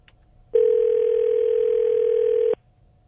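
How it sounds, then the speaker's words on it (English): A steady telephone dial tone sounds for about two seconds while someone makes a phone call, clear and alone against a quiet background. "This is someone making a phone call."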